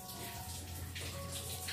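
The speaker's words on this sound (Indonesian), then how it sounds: "tinggal ini aku siram-siram pakai air gitu aja sih ya" Water pours and splashes while a kitchen sink and dish-washing area is rinsed down after scrubbing, a steady close running-water wash with a faint low hum underneath.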